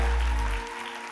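A church congregation at a Sunday morning service claps in a brief, moderately quiet burst that tapers off within about a second.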